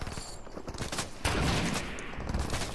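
Gunfire in a first-person shooter game, a patter of distant shots leading into a louder, sustained burst of rapid fire that rattles on for over a second.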